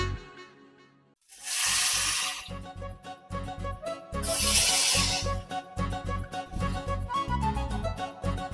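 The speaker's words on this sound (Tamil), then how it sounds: "இப்போ நம்ம மேரினேட் ஆன ஃபிஷ்ஷஸை தவால போட்டுக்கலாம்." Marinated fish fillets laid on a hot tava with curry leaves burst into loud sizzling hiss, two strong surges of spattering followed by steady crackling frying.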